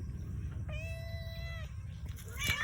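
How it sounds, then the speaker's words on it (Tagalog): A house cat gives a clear, drawn-out meow of about a second against a steady low background hum, followed by a brief, noisier second cry near the end. "Ito yung mga pusa ko"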